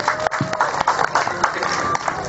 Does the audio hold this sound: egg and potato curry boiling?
no